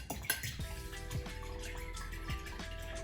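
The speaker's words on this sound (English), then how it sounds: "I'm just going to use my fork to mix it up." Fork mixing soy sauce, vinegar and sesame oil for a poke dressing, quick light clinks and swishes against a bowl, close and fairly quiet over background noise.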